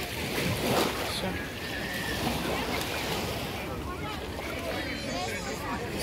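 Black Sea waves wash onto the central beach at Anapa, a steady, close surf rumble mixed with wind buffeting the microphone, with no voices.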